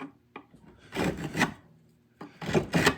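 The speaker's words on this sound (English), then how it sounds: "Let's get some filing in." Hand filing along a Bowie knife blade edge, rough rasping strokes in two short bursts separated by a pause, close and clear.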